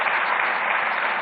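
An audience applauding, a dense burst of clapping from many hands that stays steady and loud throughout the short moment.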